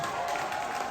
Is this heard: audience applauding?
yes